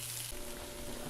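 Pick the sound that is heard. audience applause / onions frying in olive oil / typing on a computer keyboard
onions frying in olive oil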